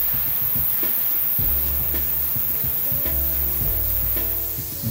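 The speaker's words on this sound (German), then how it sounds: "Jetzt geben wir den Rest der Pilze mit in die heiße Pfanne und braten die Pilze" Steady sizzling of mushrooms frying in a hot pan, with occasional scraping and stirring noises over a constant hiss.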